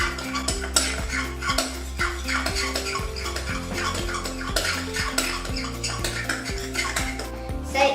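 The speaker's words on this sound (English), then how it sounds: "I need to stir it all together." A spoon stirs a slime mixture with shaving cream in a bowl, making repeated close clinks and scrapes in a steady rhythm for several seconds.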